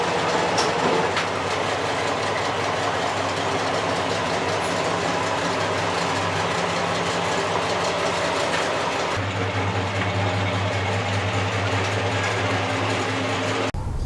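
A 1965 Chevrolet Impala convertible runs steadily while backing up, its loud continuous engine drone and low hum close by throughout, with the tone shifting and deepening partway through.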